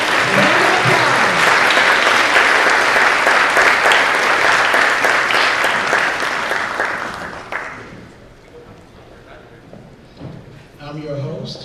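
Loud, warm applause from a public speaking contest audience welcomes Ralph Vines II, a full steady roar of clapping that dies away around eight seconds before a host starts talking.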